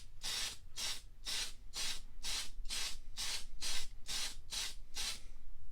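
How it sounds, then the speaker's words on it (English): Aluminium-look spray paint going onto a car's header rail, about eleven short regular hissing bursts with brief gaps between them, close and fairly quiet. "I've got some aluminium look spray that might look okay."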